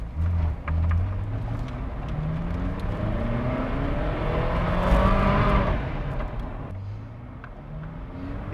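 Ferrari F40 V8 engine pulling through the gears while driving, a loud, continuous rising and falling drone with rev changes and a gearshift near the end, heard from inside the car without talk.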